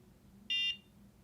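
A NuFACE Trinity microcurrent facial device gives a single short electronic beep, a clean high tone lasting about a quarter second against a quiet background hum.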